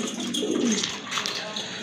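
A pair of pigeons coo softly and briefly, close by, under a faint background of voices and room noise.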